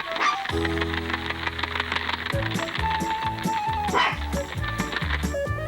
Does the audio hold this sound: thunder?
no